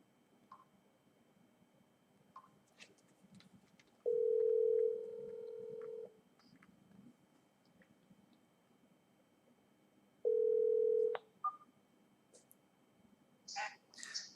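Two steady telephone dial tones, each holding for about two seconds, ring out clearly with a quiet gap between them, over faint background noise and a few distant bird calls during a nature broadcast.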